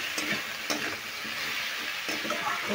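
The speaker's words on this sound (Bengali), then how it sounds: "এবার নুন আর হলুদটা দিয়ে আমি কুমড়োর সঙ্গে ভালো করে মিশিয়ে নাড়াচাড়া করবো" Pumpkin with salt and turmeric is stirred in a hot pan without added water, giving a soft continuous sizzle broken by a few scraping spoon strokes against the metal.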